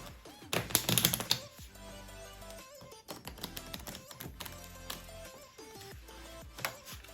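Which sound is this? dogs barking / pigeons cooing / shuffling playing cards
shuffling playing cards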